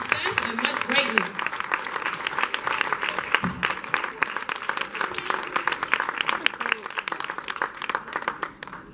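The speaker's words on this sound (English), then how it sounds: "Give yourselves a round of applause." An audience at a ceremony claps in dense, continuous applause for the whole stretch, with crowd voices mixed in.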